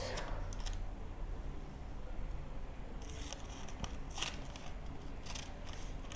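Scissors snip through paper while cutting out a puffy sleeve sewing pattern, a handful of quiet, close crisp cuts in a short burst against a soft room background.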